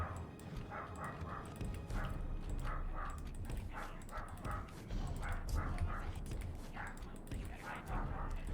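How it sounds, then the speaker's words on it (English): A dog barks in the background of a room, a repeated series of yips and barks at a moderate distance, partly under a voice as he talks. "My dog is barking in the background."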